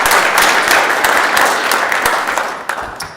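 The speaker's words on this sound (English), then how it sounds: "Let's give a nice round of applause to our future leaders in Nevada." Applause fills the Nevada Senate chamber for youth legislators, a dense, loud wash of many hands that stays steady, then thins and fades toward the end.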